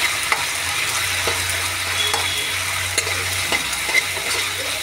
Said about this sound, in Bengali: এবারে দেব হচ্ছে এটা নাড়িয়ে চাড়িয়ে দেবো একটু।